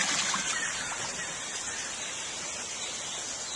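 Water falling to a lower level in a channel of the Malaga botanical garden, a continuous hissing splash that stays steady and fairly close, with no talk.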